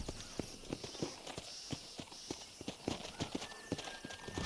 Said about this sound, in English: They are good horses.